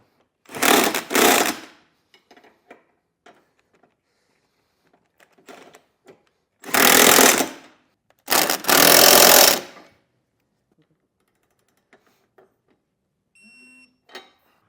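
Power tool running down the bolts and nuts of a Stealth Hitches hidden rack receiver on a 2023 Porsche, heard as three loud separate whirring bursts with quiet gaps between them.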